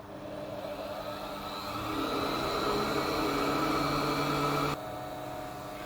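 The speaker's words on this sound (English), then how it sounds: "Let's plug in the blower and give it a little bit of air" A blower fan whirs steadily as it feeds air to a homemade waste oil heater built from old gas bottles. The hum grows louder partway through, holds for a few seconds, then drops back to a lower, even drone. No one speaks.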